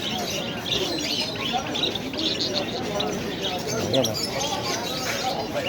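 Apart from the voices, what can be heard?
many birds for sale at a bird market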